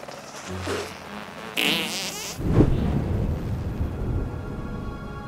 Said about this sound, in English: It sounds like ketchup in a squeeze bottle.